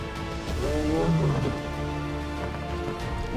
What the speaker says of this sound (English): Waking up to the sound of lions roaring in the distance is one of the best things that we have going on.